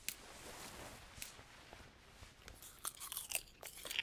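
Crunchy eating and chewing in the game What Remains of Edith Finch: steady, close crunching bites and mastication over about four seconds, growing louder and more clustered toward the end, with no voices.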